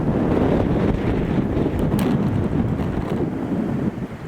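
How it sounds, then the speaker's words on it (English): Strong wind rushing toward a wildfire in Portugal, a loud, continuous buffeting roar hitting the microphone, with no voices. "The wind really picked up,"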